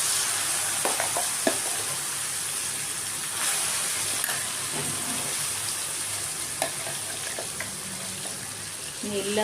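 Telugu kottimeera pudeena tomato chutney going into a hot pan of sizzling tempering, with a steady close frying hiss, faint stirring scrapes and light pops throughout.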